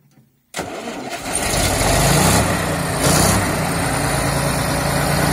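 A T-150K-05 wheeled tractor with 1,395 engine hours starts up after a brief silence, its engine catching at once and settling into a loud, steady idle close by.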